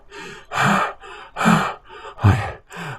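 Heavy panting from someone who has just been running: loud, close, ragged breaths in a quick rhythm of about six gasping inhales and exhales with short pauses between them.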